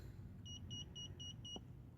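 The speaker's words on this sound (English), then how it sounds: "you hear it beep, beep, beep" A handheld TPMS programming tool beeps five times in an even rhythm while scanning a tire pressure sensor on a Honda Civic, crisp, high-pitched chirps over a low background rumble, with a brief click near the end.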